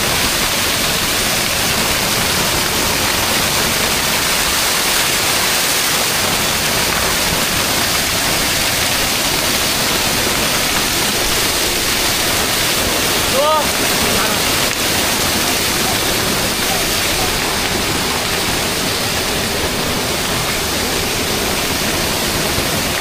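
The Lalghat waterfall roars steadily, a dense, unbroken rush of falling water that stays loud and even the whole time.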